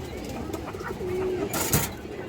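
Small ghor runner pigeon cooing, a soft low coo close by followed by a brief rustle or flutter.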